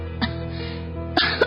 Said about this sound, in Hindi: उसकी माँ लगातार खांसे जा रही है